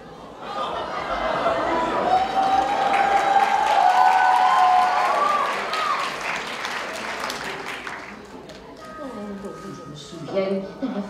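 A live audience bursts into loud applause and cheering with scattered whoops and laughter, swelling over several seconds and then tapering off into lighter clapping and crowd murmur, with voices mixed through.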